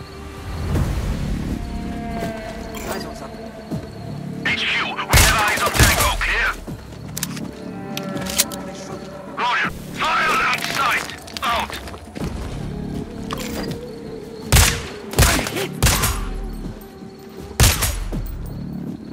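Gunfire in the sniper video game Sniper Ghost Warrior Contracts 2 sounds as loud, repeated bursts and cracking shots with heavy thuds, dense and close, mixed with game sound effects and brief voices.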